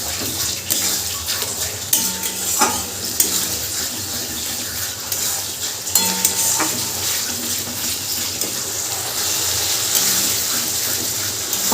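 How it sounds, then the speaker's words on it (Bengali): Katla fish kalia, a Bengali fish curry, is stirred in a pan after poppy seed water is added, giving a steady wet sizzle and bubbling with occasional scraping clinks of a utensil, close and continuous. "আর এর ভেতর দিয়ে দেবো পোস্তর বাটি ধোয়া জলটা। দিয়েও খুব ভালো করে মিশিয়ে নেব।"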